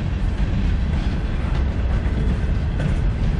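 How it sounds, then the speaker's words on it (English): A freight train rumbles past close by in Washington DC, a steady heavy roar of wheels and cars with faint rhythmic clatter, no voices. "There's a freight train that's going by."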